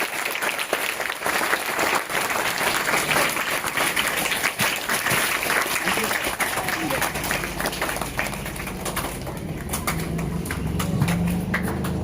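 School audience applauding a student at a school event, dense continuous clapping that stays loud for the whole stretch with a voice briefly audible over it.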